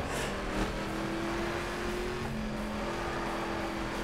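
Car engine in the driving game The Crew revs steadily with a sustained whine, loud and continuous, like a throttle held down in a game race.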